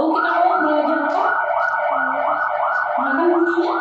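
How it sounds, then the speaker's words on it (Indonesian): An ambulance siren recording played aloud in a classroom, a loud, repeating two-tone wail cycling steadily throughout with faint room noise beneath. "Bunyi apa itu? Ambulan."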